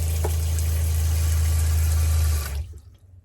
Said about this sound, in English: It also has hot running water coming out of this tap